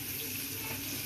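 Chicken pieces with turmeric and salt fry lightly in a pan, giving a steady, close hiss of sizzling oil that lasts the whole brief moment.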